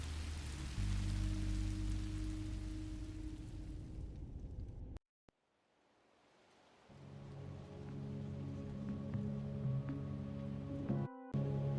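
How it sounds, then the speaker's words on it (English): Rain in the Minecraft: Story Mode video game, a steady hiss of falling rain that cuts out abruptly, returns gradually, and continues under a soft musical drone. "I didn't know it would rain."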